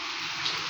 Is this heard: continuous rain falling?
yes